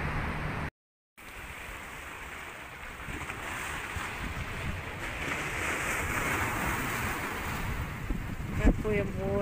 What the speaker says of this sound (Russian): Какое море беспокойное.